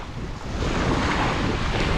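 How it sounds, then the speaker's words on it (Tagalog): Strong wind blowing at a beach, a loud continuous rushing roar buffeting close by with crashing surf mixed in, no voices. "Lakas ng hangin"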